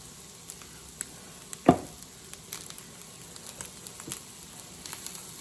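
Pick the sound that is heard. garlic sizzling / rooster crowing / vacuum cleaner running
garlic sizzling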